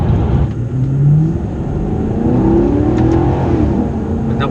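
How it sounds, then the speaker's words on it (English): Maserati GranTurismo engine accelerating heard from inside the car, a loud, deep rising engine note with revs climbing through the gears, steady and close, without talk. "you would just be in heaven listening to that engine"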